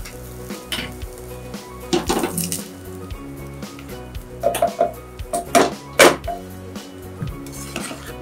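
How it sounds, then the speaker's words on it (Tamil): Hot tempering of curry leaves and coriander sizzles and crackles steadily as it is poured into varagu rice pongal, with clinks and scrapes of a metal pan and spoon over the frying, close by and with no talk. "வதக்கிட்டு இந்த தாளிப்பை பொங்கல்ல கொட்டிக்கோங்க."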